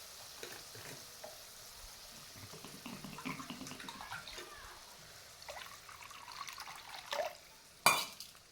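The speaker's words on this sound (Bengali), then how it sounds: "এবার পরিমাণ মতো জল দিয়ে দেবো" Water poured into mustard masala for sarshe pabda fish, a soft running, bubbling pour building toward the end with a brief louder splash near the finish, close and moderately quiet with no talk.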